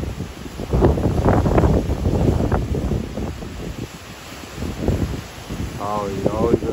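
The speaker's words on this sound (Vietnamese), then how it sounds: "Trời chiều là nó nổi sóng nó, gió nó lên rất là mạnh các bạn" Strong wind buffets the microphone at the sea in Vung Tau, with waves surging and breaking beneath a steady roar, while people talk over it throughout.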